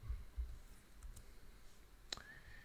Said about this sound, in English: Have to verify it, so type in your passphrase again